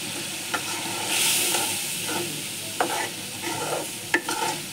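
Hilsa fish roe being stirred into half-cooked dal with a bay leaf, giving a soft frying sizzle broken by a few sharp scrapes of a spoon against the pot, close and moderately loud with no talking.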